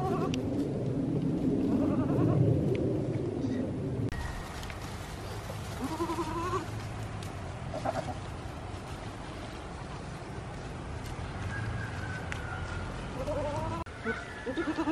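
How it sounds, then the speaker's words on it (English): Goats in a rotational grazing pasture bleat repeatedly at varying distances, their calls rising over a constant outdoor background hum for the whole stretch. "it looks like I have some very happy goats today"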